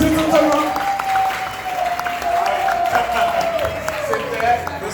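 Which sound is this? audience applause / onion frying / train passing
audience applause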